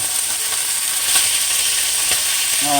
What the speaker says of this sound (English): I'm just putting them on top of the onions because now I want the onions in the bottom of the pan so they can go ahead and saute up